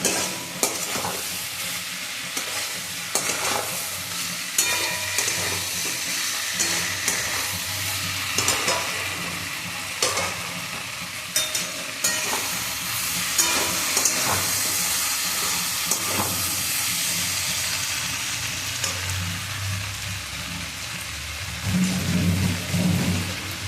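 Vegetables coated in a cooked-down spice paste sauté in a pan, a continuous close sizzle broken by repeated stirring scrapes and taps of a spoon, with no voices.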